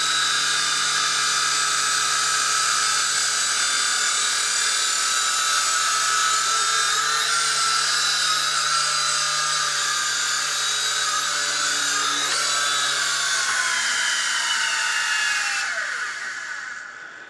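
A small coaxial RC helicopter spools up and hovers close by, its motors giving off a steady high-pitched whine with layered tones that shift slightly as the throttle changes, then tapers off at the end.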